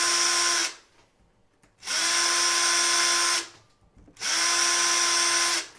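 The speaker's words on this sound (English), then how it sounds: "I'm actually going to drill this right into the wood because I can get a little bit further through." A power drill boring holes straight into wood: three sustained, close whining runs of one to two seconds each, separated by short quiet pauses, with no talking.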